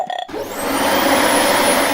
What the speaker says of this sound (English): That's the vacuum cleaner, says Chloe.